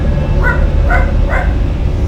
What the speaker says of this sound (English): Pain in the arse dog barking.